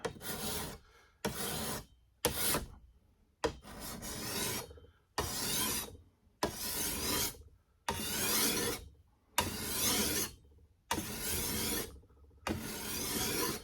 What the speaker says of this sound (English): See, as you're filing, that Sharpie's coming off